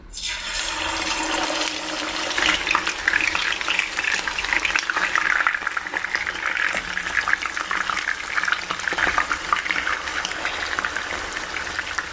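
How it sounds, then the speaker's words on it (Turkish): Steady, loud sizzling and spitting of meat frying in hot oil for topak kızartma, a dense continuous crackle that holds throughout without pause. "kızmış olduğum yağıma etlerimi bir güzel koyup kızartmaya başlıyorum"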